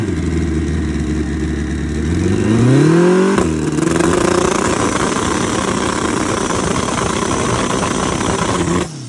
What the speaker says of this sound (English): First two-stroke 1000 cc. Second four-stroke turbo Hayabusa.